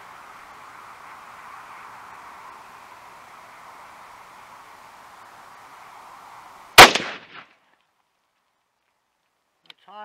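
A single loud rifle shot from an MDT Oryx chassis rifle cracks sharply at a range after a steady background hiss, then fades quickly, followed by a faint click near the end.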